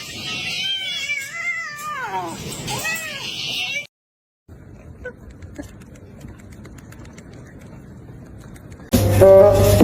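A house cat meows in a long series of loud, rising and falling calls near the microphone, then goes quiet with faint background noise before a loud burst of sound at the end.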